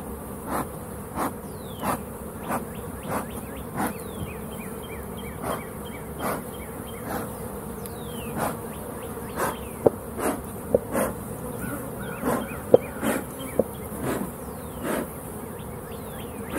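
Bees buzz inside an old ambulance converted into an RV, repeated insect drones rising and fading close by over a steady low background hum, with several sharp ticks scattered throughout.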